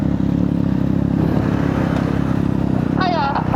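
A motorcycle engine runs steadily with a low, rumbling drone throughout, close and loud, with a brief higher whine near the end.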